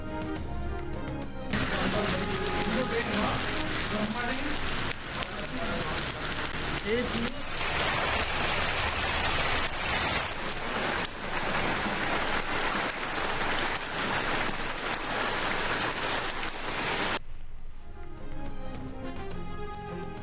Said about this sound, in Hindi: गवादर जिवनी समेत मुख्तलिफ इलाकों में बारिश